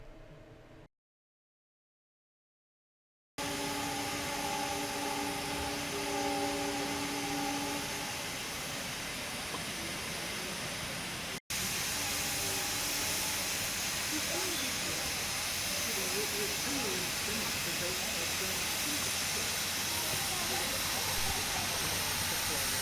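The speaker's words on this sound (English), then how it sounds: "here she is now, coupled with her tender and in light steam" A Vulcan Foundry-built steam locomotive in light steam, coupled to its tender, gives off a steady, continuous hiss that persists alone at fairly close range, briefly broken by a gap and a cut.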